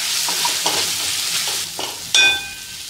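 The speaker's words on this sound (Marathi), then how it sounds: "त्यानंतर त्याच्यामध्ये 1 चमचा लाल तिखट घालून घ्यायचे आणि अर्धा चमचा हळद घालून घ्यायची आहे आणि मिक्स करायचे।" Peas fry in a pan with red chilli powder and turmeric as a spoon mixes them, producing a continuous close sizzle under repeated scraping stir strokes and a sharp metallic clink near the end, with no talking.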